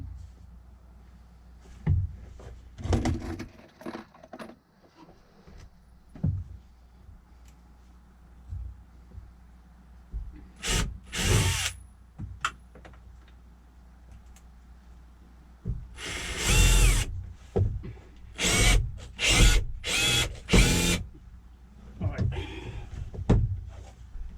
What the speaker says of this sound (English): I think I've got to drill those counter bore a bit deeper.